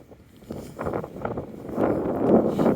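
Strong gusty wind outdoors in Halifax after a snowstorm roars against the microphone in a low, rumbling buffet that swells and grows louder toward the end, with no talk.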